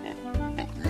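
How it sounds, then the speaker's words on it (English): A pig oinks in a couple of short low grunting bursts, loud and close, with no talk over it. "Ooh, a pig."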